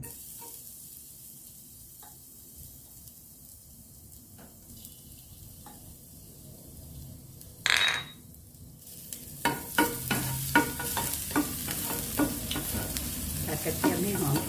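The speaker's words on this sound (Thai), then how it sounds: "เอากระเทียมลงไปผัดก่อนค่ะ" Garlic stir-fried in hot oil in a pan for papaya with egg, starting as quiet faint clinks, then a sharp burst and a growing sizzle with repeated close scraping strokes.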